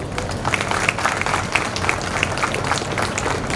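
A crowd claps steadily throughout at a Grade 3 graduation ceremony at St. George's Grammar Preparatory School, a dense, even patter of many hands with no break.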